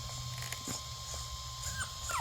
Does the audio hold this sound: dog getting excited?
yes